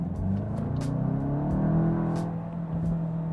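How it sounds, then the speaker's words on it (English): A Volkswagen Golf GTI Mk8 with a 2-liter four-cylinder accelerates nearby with a rising engine drone, punctuated by several sharp crackling pops from the exhaust. "you get a couple pops from the exhaust"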